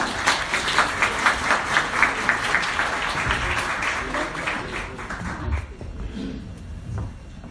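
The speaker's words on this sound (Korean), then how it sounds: "큰 박수 부탁드립니다." An indoor audience at a basic income talk in Pangyo Techno Valley claps in a dense, lively burst of applause that gradually thins and fades out toward the end.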